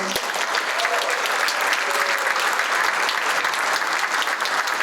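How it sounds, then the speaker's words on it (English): Sustained audience applause for panel presenters at a university political event, a thick, even, continuous wash of clapping with faint voices mixed in. "Another round of applause for our presenters here."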